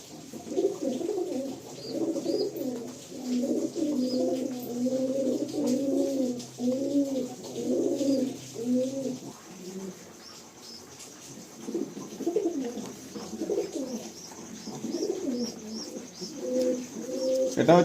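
Pigeons cooing inside a loft, a steady stream of overlapping rolling coos for the first half, then sparser, softer calls after a brief lull, close and fairly loud.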